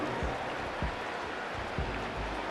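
Stadium crowd noise in Madden NFL 25 during a goal-line football play: a steady, dense roar with low thumps, held at moderate level throughout.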